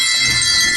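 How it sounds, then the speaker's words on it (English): Concert audience members ring small hand bells together at a St. David's Day concert. The result is a brief, bright, shimmering jingle of many tinkling bells, loud and close. "I'd like you to ring your little bells"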